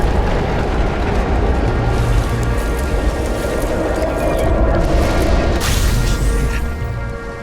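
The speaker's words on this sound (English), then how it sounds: "So we don't know what caused the explosion." A loud, sustained rumbling explosion from the video game Nobody Wants to Die, a dense roaring blast that holds steady for several seconds with a sharper burst near the end, with no talk over it.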